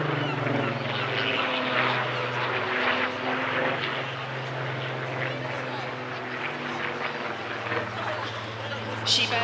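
A Spitfire Mark 19 in PRU blue flies overhead at a seaside airshow, a steady propeller-engine drone with shifting tones that holds for the whole stretch at moderate distance, with a commentator talking over it.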